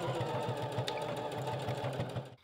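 A sewing machine runs steadily, stitching a straight row through bra fabric and elastic near a folded edge, with a fast, even mechanical rhythm heard up close until it stops at the end.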